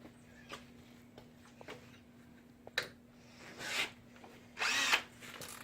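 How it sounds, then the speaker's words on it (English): A drill boring small pilot holes in a metal trolling spoon, heard as a few short whirring bursts separated by pauses, with the longest and loudest burst near the end, close by and fairly quiet overall. "we're going to use a different drill bit really quick, just to make a pilot hole"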